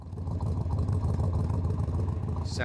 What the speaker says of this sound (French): Le son des pots d'échappement latéraux.